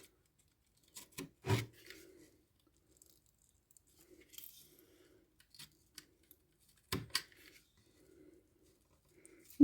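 Scissors snipping through a begonia plant's leaf or stem for propagation, with a few crisp cuts clustered near the start and another pair later, close and quiet against an otherwise still background.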